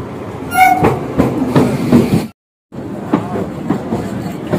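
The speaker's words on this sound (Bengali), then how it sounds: "আমাদের ট্রেন এসে গেছে, আমরা উঠে ওই পেছনের দিকে চলো।" A train arriving at a station at night rumbles close by with rattling wheels and a brief high tonal squeal or horn, interrupted by a short silence before the rolling noise resumes.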